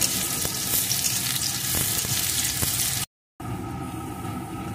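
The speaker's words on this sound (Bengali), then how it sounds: "পেঁয়াজ কুচিটাও একটু ভেজে নেব" Chopped onion and green chillies frying in a pan, a loud continuous hissing sizzle with faint stirring ticks, cutting out briefly before the frying resumes.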